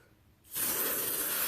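An aerosol can sprayed as a fixative in a bathroom, a steady hissing spray that starts abruptly after a brief quiet moment and continues loud and close to the end.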